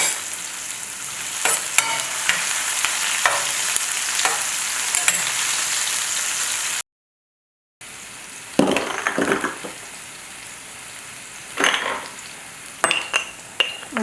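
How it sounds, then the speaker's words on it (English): Onion and pepper fry with jeera in a pan, a loud steady sizzle broken by a brief silent gap, then clinks and scrapes of a utensil stirring against the pan, with no voices. "I'll add the onion and pepper. And I'll cook until the edges are brown."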